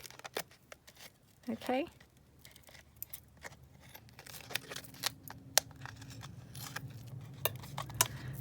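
Scissors trim a coin holder specimen slide in a series of sharp, close snips at irregular intervals, with faint handling and rustling between cuts. A voice speaks briefly near the start.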